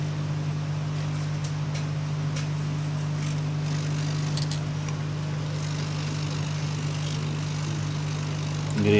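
A hot air gun set to about 450 degrees blowing on the glass of an iPad 2 A1395 during a screen replacement, producing a steady, even whoosh and hum that holds without a break, close by.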